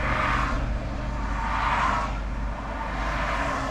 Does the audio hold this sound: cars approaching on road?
yes